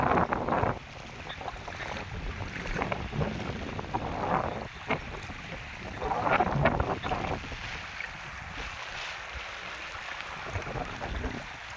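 Gusty wind during heavy rain buffeting the microphone with rumbling bursts, mixed with rushing floodwater running along a dirt road, loud and uneven throughout.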